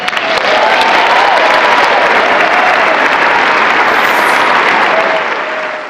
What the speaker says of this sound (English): Rousing bipartisan applause for the first Pope ever to address a joint meeting of Congress.